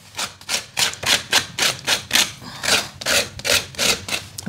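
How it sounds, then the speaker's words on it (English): A tool scrapes paint off an art journal page in about a dozen rhythmic, raspy strokes, close and fairly loud, with no talking. "I've scraped most of it off."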